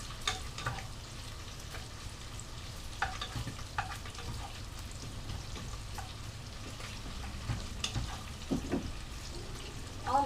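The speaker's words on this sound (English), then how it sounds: "browning the bacon and starting to get brown" Bacon browning in a pan sizzles and crackles with soft steady frying, scattered sharper pops spread throughout, quiet and close with no voices.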